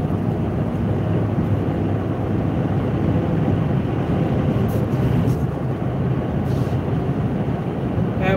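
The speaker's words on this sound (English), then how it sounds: "That wind is blowing so hard." Strong wind roars steadily and loudly over a vehicle, a broad constant rushing noise that covers the whole stretch.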